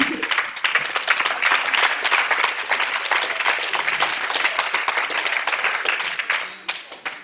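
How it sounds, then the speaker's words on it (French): An audience at a poetry evening during a festival breaks into sustained, dense applause, loud and steady for several seconds before thinning out near the end. "applaudissez."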